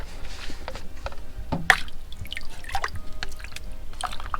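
Liquid bio-fermented fertilizer poured onto organic vegetable plants, producing soft intermittent drips and splashes with one sharper splash near the middle, fairly close and moderately quiet.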